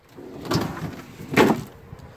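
A pull-out induction cooktop on a 2018 Puma 253FBS fifth-wheel RV's outdoor kitchen slides out with two short sliding, rumbling strokes about a second apart, close by and otherwise quiet.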